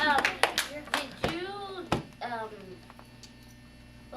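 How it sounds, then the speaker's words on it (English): Brief, sparse clapping from a small audience, a few sharp claps in quick succession that soon die out, with a voice speaking over them and a low electrical hum in the background. "Let's clap for him"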